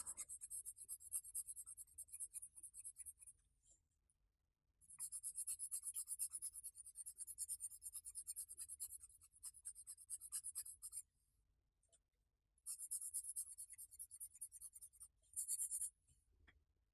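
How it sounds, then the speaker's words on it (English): Pencil blending and shading on paper for a baby portrait drawing, soft rhythmic scratchy strokes in several bursts separated by short pauses, close and quiet. "Pretty much blending out this area with this pencil."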